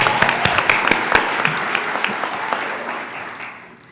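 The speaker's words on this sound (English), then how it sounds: "You need to applaud yourselves." Audience applause for 2016 Practical Nursing graduates at a college pinning ceremony, a dense burst of clapping from a large crowd that stays steady and gradually fades toward the end.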